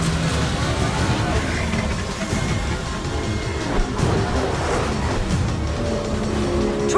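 A taxi with a fare meter drives in the video game Mass Effect 2, its engine humming steadily under continuous road and wind noise, with scattered tire squeals and a few thumps.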